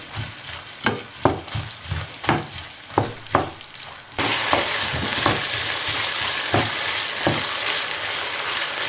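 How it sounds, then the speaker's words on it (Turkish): Onions and minced meat frying in a pan, first with rhythmic scraping stirs over low sizzle, then a louder, steady hiss of frying with occasional stirring knocks, close and without talk. "Soğanları ve kıymaları rengi dönünceye kadar kavurma işlemine devam ediyorum."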